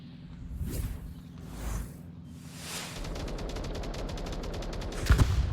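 Gunfire in the VR shooter Onward during a competitive match: scattered single shots and whooshes, then a fast rattling burst of automatic fire ending in a louder close crack.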